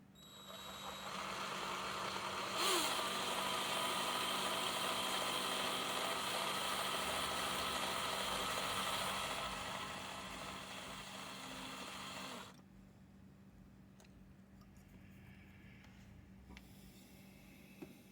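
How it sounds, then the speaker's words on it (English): A loud, steady whine of an electric drill running for several seconds on a Titanic wreck model's aft mast, then cutting off, leaving a quieter motor hum and faint background noise. "Let me try with the drill"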